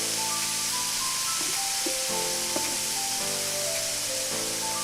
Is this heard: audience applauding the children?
no